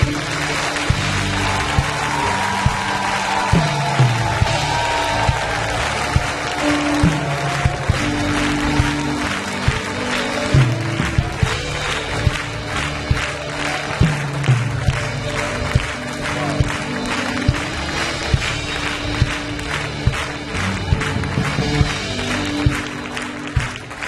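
A congregation at a fasting and prayer gathering claps and acclaims together, a dense, continuous wash of crowd applause with steady, rhythmic hand claps and a reverberant hall-like fill throughout.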